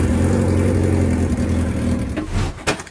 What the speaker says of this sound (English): somehow the engine still works